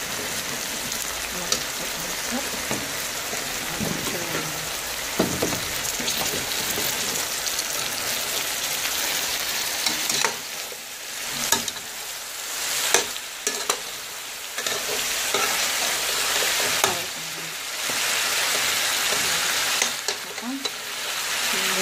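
Meat sizzling and frying in a pan for a watermelon sauce with couscous and spiced vegetables, a steady crackling hiss that runs throughout, with occasional stirring scrapes and clatters and no talk.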